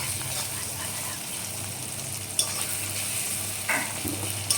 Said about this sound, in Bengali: এই দেখো আমার পেঁয়াজগুলো ভাজা হয়ে গেছে।